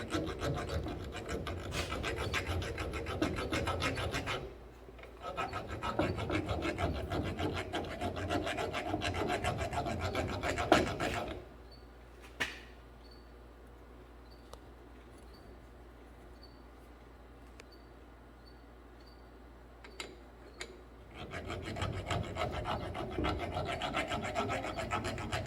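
An aluminum wheel bearing bore on a 2017 Ram 1500 4x4 is scraped clean by hand in two long rasping stretches, with a quiet pause between them broken by a few faint clicks.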